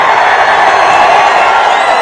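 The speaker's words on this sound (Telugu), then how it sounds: "గట్టిగా చప్పట్లు కొట్టి హర్షాన్ని," A large rally crowd clapping loudly and steadily, a dense, sustained wash of applause heard close and full for about two seconds, with no voices standing out.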